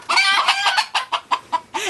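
Polish breed hen clucking close by in a quick run of short, separate clucks, opening with a longer call and ending on another drawn-out note, with no talk over it.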